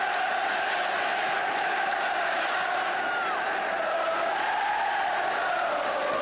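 A stadium crowd at a 1972-73 Chelsea vs Manchester United football match gives off a steady, dense roar from start to finish, a wide wash of many voices rising with the play.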